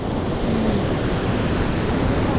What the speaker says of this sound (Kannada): ಸೊ ಇದೆ ನೋಡಿ ತೋಸೆಗರ್ ವಾಟರ್ಫಾಲ್